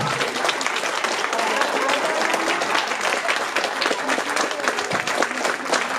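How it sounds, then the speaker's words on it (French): An audience at a local talent show in Damelevières breaks into dense, sustained applause, with many hands clapping close and continuously throughout. "On peut applaudir Anaël."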